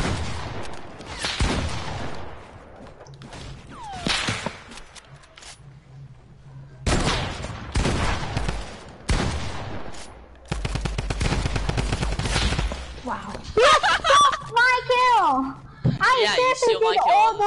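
Shotgun blasts and other rapid gunfire in a shooter video game, heard as repeated loud bursts in several clusters, with players talking throughout and over the shots.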